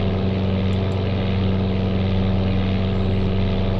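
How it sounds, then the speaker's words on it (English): A PA-23 twin-engine plane in Flight Simulator 95 drones with a steady, loud, buzzing engine hum and low propeller thrum, unchanging throughout. "This is a turbo plane."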